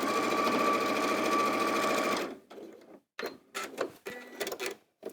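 Little 570 sewing machine stitching a quilt block, a fast close whirring rattle for about two seconds, then silence broken by several short bursts of stitching.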